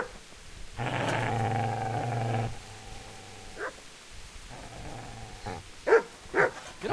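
A dog in the medieval video game Kingdom Come growls in a sustained low rumble, then gives a few sharp, close barks after a brief pause.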